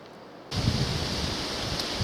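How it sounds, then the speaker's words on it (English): Waves crash onto a rocky shore along a coastal walking path, a broad steady roar of surf that swells in abruptly and holds, heard from a distance. "All I can hear in the background now is the crashing of waves"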